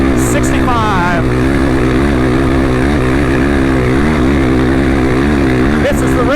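A motorcycle engine at race pace on a hot, 100-degree desert training ride. It gives a loud, continuous droning whine whose pitch rises and falls as the throttle changes, with a brief voice near the start.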